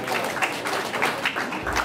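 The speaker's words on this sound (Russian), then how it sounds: "Аплодисменты, дамы и господа." Steady applause from an audience at a bodybuilding contest in Latvia, a dense continuous patter of clapping at moderate loudness that holds evenly throughout with no speech over it.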